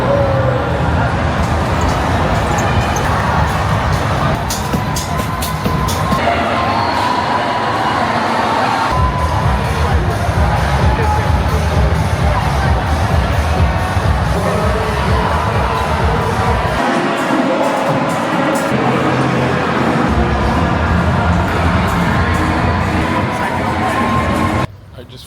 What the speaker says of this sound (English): heard a bunch of people cheering on their friends and family